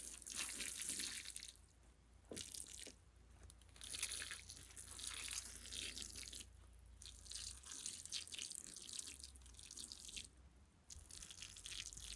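Water poured from a can or jug onto freshly repotted plants in dry soil, a steady close splashing and trickling stream broken by a few short pauses.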